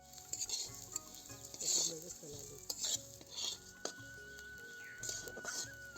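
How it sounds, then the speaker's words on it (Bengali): Lentils are stirred and fried in oil in a cooking pan, giving a steady soft sizzle under repeated scraping and clinking strokes of the spoon, fairly quiet and close, with no talking. "ডালগুলোকে দিয়ে ভালো করে নেড়ে ভেজে নিব"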